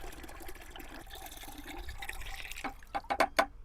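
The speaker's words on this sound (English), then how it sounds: "I'm dripping it in my coffee cup" Diesel fuel drips into a coffee cup during a mix of roughly 40% diesel to 60% oil, a steady liquid trickle that builds into several distinct, louder drips near the end.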